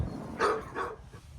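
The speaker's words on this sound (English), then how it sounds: "All day, just barking at me all day." A dog barks twice in quick succession at moderate distance, two short sharp barks followed by quiet, heard during a brake upgrade on a car.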